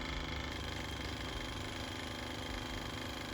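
A 2005 Yamaha FZ1 motorcycle that runs poorly after sitting parked idles steadily with a dense, continuous rumble close by, no voices.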